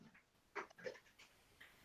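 A dog pants indoors in quick, soft bursts of breath, faint and close, with a few brief louder puffs and no voices.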